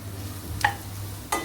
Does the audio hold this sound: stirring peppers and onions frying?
yes